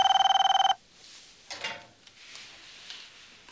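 A telephone rings with a rapid electronic trilling bell for under a second, then cuts off, followed by faint rustling and small handling sounds in a quiet room.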